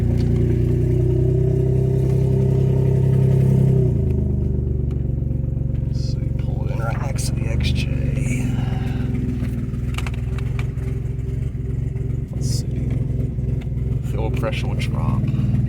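A Mercedes-Benz SL R129 engine idles steadily close by with a low, even hum, its tone dropping and settling after a few seconds, under intermittent talk and light clatter.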